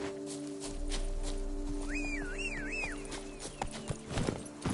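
In The Witcher 3: Wild Hunt, a horse's hooves clip-clop steadily as it gallops, and a whinny rises briefly in the middle over a low game ambience.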